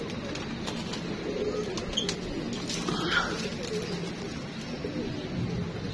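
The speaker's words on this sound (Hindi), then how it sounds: "बाकी कबूतर सारे हमारे चले गए ऊपर" Soft pigeon coos drift over a steady outdoor background hum, a few low calls repeating at a distance.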